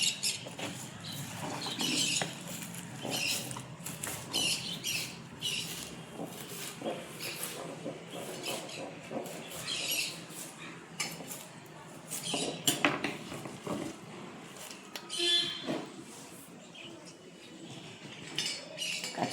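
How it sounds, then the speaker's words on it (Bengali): Red amaranth greens being chopped on a board, with a long run of quick, uneven knife taps and scrapes, close and fairly quiet, while someone talks intermittently over the cutting. "দেখো এই যে আমার শাকটা কুচানো হয়ে যাচ্ছে।"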